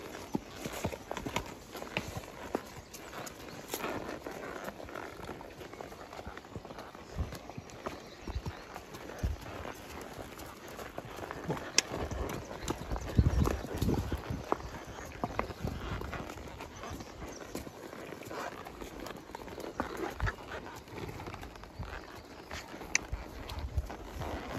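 Horses walking outdoors near a shooting range, hooves clip-clopping in a steady irregular rhythm over faint ambient noise, with occasional movement sounds.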